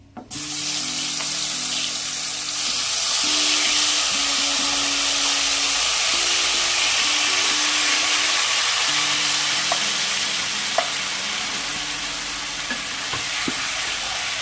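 Marinated jackfruit frying and being stirred in a pan, with a constant loud sizzle and occasional scraping stirs, close up and without talking.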